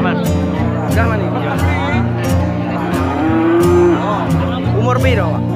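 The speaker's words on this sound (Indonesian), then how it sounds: "Sapi nopo? Sapi Brahman." Brahman cattle low at the Purwantoro livestock market, loud and close, with people chatting over the animals' calls throughout.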